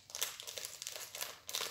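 Crinkly plastic foil of a Santoro Gorjuss blind bag pouch being torn and opened by hand, a quick run of close crackling and rustling.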